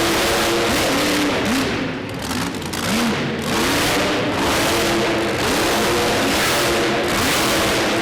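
Monster truck engine revving hard during a freestyle run at the Covelli Center arena, loud repeated rising and falling revs in quick waves over constant crowd and arena roar, no talk.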